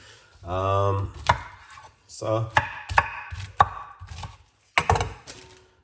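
Several sharp chopping thunks of a knife cutting through pineapple on a board, irregular and close, with someone talking between the cuts.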